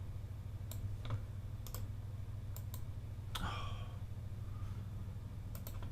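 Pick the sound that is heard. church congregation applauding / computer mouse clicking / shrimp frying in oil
computer mouse clicking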